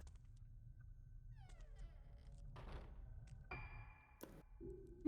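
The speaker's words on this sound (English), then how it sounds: "Sorry, my cat's meowing." Pet cat meowing indoors: a few faint, drawn-out meows with rising and falling tones, plus a couple of soft knocks, quiet and somewhat distant.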